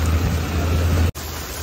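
Heavy monsoon rain pours down in Mumbai as a dense, loud hiss with a low rumble underneath, broken by a sudden brief dropout before the downpour resumes.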